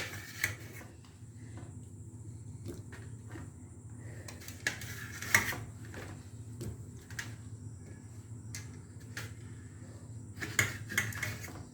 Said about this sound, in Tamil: தக்காளி நுனியை கட் பண்ணிவிடுங்க.